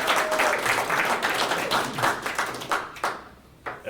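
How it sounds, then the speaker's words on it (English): An audience applauds a man named John, a close, full burst of many hands clapping that tapers off with a few last claps near the end. "So if we can all give him a round of applause."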